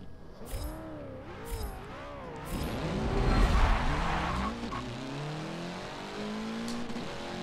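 A 700-horsepower Mitsubishi Evo 8 with all-wheel drive makes a drag run in Forza Motorsport 7: the engine revs climb and drop through gear changes with a brief tire squeal, loud and close.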